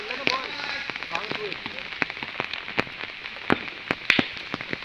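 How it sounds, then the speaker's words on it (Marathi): Heavy rain patters and drums on a surface throughout with sharp drop impacts, while a voice commentates over it during a cricket match. "पाऊस पण खूप आहे"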